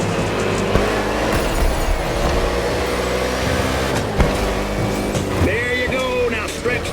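NASCAR stock cars racing through the streets of Honolulu, Hawaii in The Crew Motorfest, a steady loud engine drone with shifting pitch and a brief surge near the end, continuous throughout.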